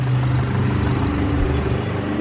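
A Volkswagen GTI engine idles steadily at operating temperature after running for about half an hour, a loud, close, even hum with a low, constant drone and no revving or voices.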